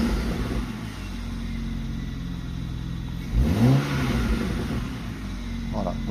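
A BMW N54 engine revs up past a set RPM, a steady mid-pitched drone rising into a sharp climbing sweep near the middle before settling back, heard close and fairly loud with no talk over it.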